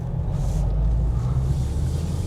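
A Subaru car engine accelerating through second and third gear gives a steady, deep low rumble from inside the car, fairly loud and even throughout.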